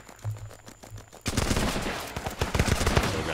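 Artillery rounds slamming down in the combat game Running with Rifles: a quiet lull, then a sudden heavy barrage of overlapping booming impacts and crackling blasts, loud and dense, rolling on without pause.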